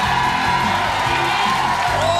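A studio audience at a French-language 1994 New Year's comedy show claps and cheers steadily for arriving guests, a dense continuous roar with whoops rising over it and a voice mixed in.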